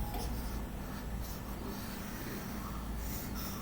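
Marker or chalk scratching out a statement on a classroom board during a maths lesson, a continuous close rubbing scrawl with no talk.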